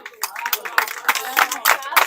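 Crowd applauding a substituted player at an under-17 regional youth football playoff match between Cus Palermo and Atletico Nissa, with scattered claps rising and falling over about two seconds, mixed with crowd murmur and a commentator talking over it.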